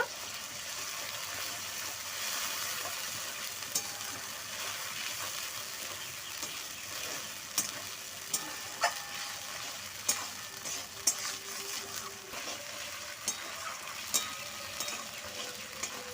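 Dried chili paste fries in a pan with a constant soft sizzle, while a spoon stirs it in, knocking lightly against the metal every second or so later on.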